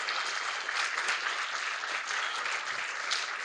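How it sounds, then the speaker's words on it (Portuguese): An audience at a tech talk breaks into loud, continuous applause, with many hands clapping densely and evenly throughout. "eu quero uma salva de palmas para todo mundo que ficou aqui até agora"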